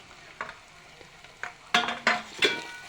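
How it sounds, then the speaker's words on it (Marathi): A spoon stirs ground black masala and dal into a sizzling village-style mutton curry in a pot, with a few soft scrapes followed by three louder, closer stirring sweeps over frying sizzle. "आणि याला परत असं चांगल्या प्रकारे मिक्स करून घ्यायचे"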